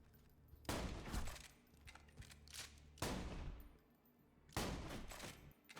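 A Jakobs Tidal Wave shotgun fires in Borderlands 2, three loud blasts spaced about two seconds apart, each followed by a rattling, scattering decay.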